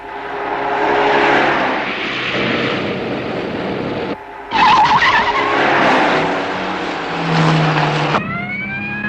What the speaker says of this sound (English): Going in pursuit of red casement convertible on Highway 6